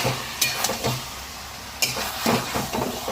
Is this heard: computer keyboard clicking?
no